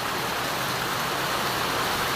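Heavy rain pours down steadily in a flooded neighborhood, a dense, unbroken hiss of water filling the air, loud and close with no pauses.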